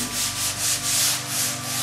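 Rhythmic sanding strokes over still-wet crack filler on a rounded pillar rasp back and forth in steady repeated sweeps, close and fairly loud, a gritty rubbing that swells and fades with each pass.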